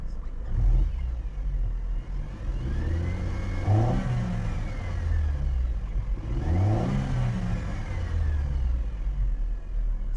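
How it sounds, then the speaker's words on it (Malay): A Mercedes-Benz C-Class W204 with a turbocharged CGI petrol engine revs hard twice from idle, each loud, close rise building and then falling back to a steady idle rumble. "Sekarang saya nak beri tuan-tuan dengar bunyi enjin CGI ni"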